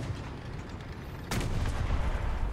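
In War Thunder, an incoming shell slams into the player's Zrinyi II tank with one sudden heavy impact, followed by a loud, sustained rumbling roar over the quieter engine drone that came before.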